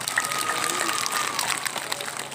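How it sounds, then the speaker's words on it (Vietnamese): A crowd at a church gathering in mountainous Mường Lát district, Vietnam, applauding to welcome border police, a dense, steady patter of clapping held at moderate distance for a couple of seconds. "Chúng ta ưu ái và chào đón các anh một tràng vỗ tay."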